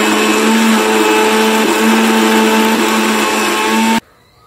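A mixer grinder whirs loudly and steadily as it grinds chilli powder, salt and fresh coconut pieces for a chutney, running for about four seconds before cutting off abruptly.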